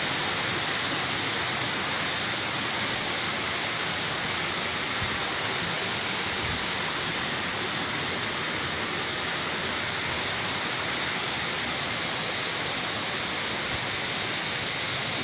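Magsaysay Falls pours down in a steady, loud, broadband rush, continuous and unbroken with no voices over it.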